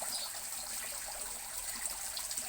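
Steady trickle of water spilling from a small waterfall into a backyard koi pond, a continuous close splashing wash with no voices.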